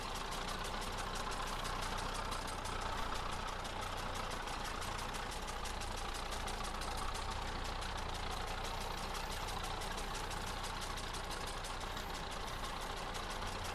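An IMT 560 tractor engine from Farming Simulator 22 idles in a steady, unchanging drone, faint and continuous with no talking.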